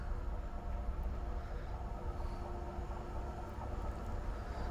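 A low, steady rumble of a train rolling past at Łódź Kaliska station, continuous and fairly distant, with no voices.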